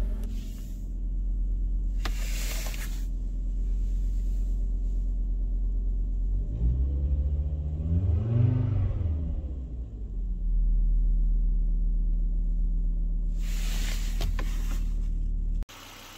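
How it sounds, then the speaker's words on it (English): A Volvo V70 II engine idles with a steady low hum, briefly revving up and settling back down, with a couple of faint clicks and clatters around it. "The engine is running properly and absolutely no noticeable issues and no vibrations."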